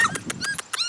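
Several high, thin yips and squeaky little barks from Doodle puppies, rapid and close together, over about a second.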